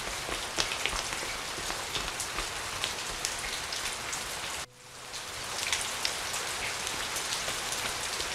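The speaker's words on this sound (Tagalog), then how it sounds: "Lakas ang ulan, oh." Heavy rain pours steadily onto a surface in a dense, continuous hiss with pattering drops, dipping briefly midway before resuming at full strength.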